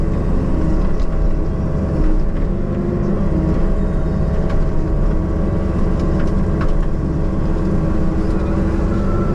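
A Cat 305.5 mini excavator works on a small excavation job, tearing out brush and trees, its engine a loud steady low rumble droning throughout with faint higher clatters, no talk.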